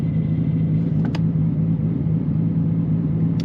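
A Nissan Skyline R32 GT-R idles in neutral with a steady, deep low rumble, close and constant, with a couple of faint clicks over the engine.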